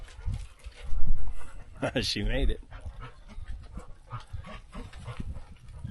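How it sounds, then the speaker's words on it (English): Dogs at an old abandoned homestead, a short burst of loud nearby barking mixed with panting and rustling, and a person speaking briefly. "Dogs are barking here."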